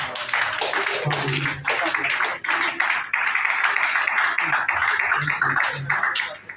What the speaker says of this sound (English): And another round of applause for ourselves.